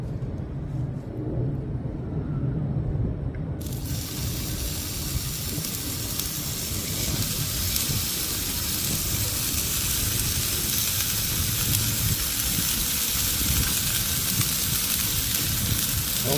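Lamb chops sizzle loudly in a pan with a little olive oil, a sudden burst of bright frying hiss that starts a few seconds in and holds steady and close until the end.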